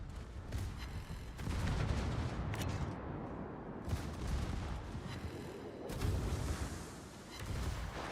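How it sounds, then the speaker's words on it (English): Torpedo hits and explosions on warships in the naval battle game World of Warships, a dense run of booming, crackling blasts with repeated heavy impacts across the whole stretch, loud and continuous. "Torpedo hits."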